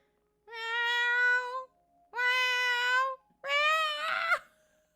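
A cat gives three long, loud meows in a row, each drawn out and separated by short pauses, the last one rising into a strained cry.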